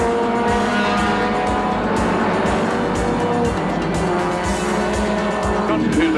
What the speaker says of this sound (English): here's the view from Bobby Morris's car